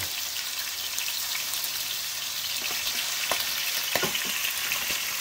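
Cutlets fry in hot bacon fat in a pan, a steady close sizzle with scattered pops and crackles running throughout, with no talking.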